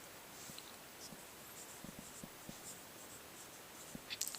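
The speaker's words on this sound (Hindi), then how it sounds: "तो इसका उत्तर लिखेंगे" Faint scratching of a pen writing an answer by hand, with soft short strokes and small taps spread across the stretch, quiet and close, with no talking.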